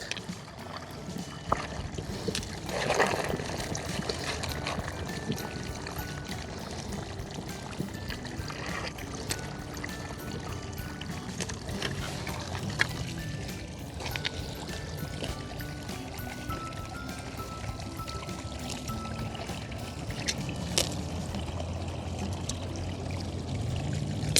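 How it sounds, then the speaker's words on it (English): A water pump runs continuously while water pours and splashes steadily over a gold sluice outdoors, a sustained rushing flow with occasional small knocks and clatters. "let's turn the pump off for a minute"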